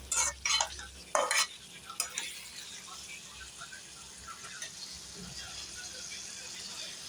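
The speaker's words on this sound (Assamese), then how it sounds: "এইটো এনেকৈ ফ্ৰাই কৰি মানে কালাৰটো পূৰা ৰঙা কৰি দিব লাগিব।" Onion frying in a pan for an Assamese chicken fry, a steady close sizzle with sharp scraping and stirring strokes clustered early, then a softer continuous crackle, with no talk.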